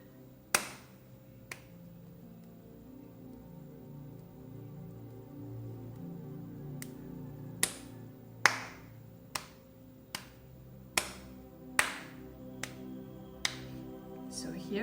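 Sharp hand claps mark the beats of Adi talam for an Indian classical dance lesson, about a dozen crisp hits in a loose, doubled rhythm over a faint background drone.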